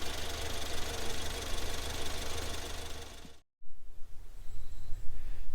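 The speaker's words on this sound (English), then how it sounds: "just give it a start. Make sure it's idling, make sure you can't hear any air leaks" Ford Fiesta ST180 engine, freshly fitted with a crossover pipe, idles with a steady, close mechanical rumble and ticking for about three seconds, then cuts abruptly and gives way to quieter, uneven low thumps and engine-bay noise.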